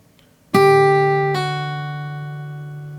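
A plucked guitar note pair rings out, then a second soft attack as a string is pulled off, the tones sustaining and slowly fading.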